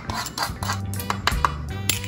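A small spoon mixes black pepper seasoning in a bowl, giving close, repeated clinks and scrapes against the dish in an uneven rhythm, with no talking.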